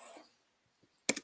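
Quick burst of computer keyboard typing, three or four close clicks in a short run near the end, after a faint stretch of low room noise.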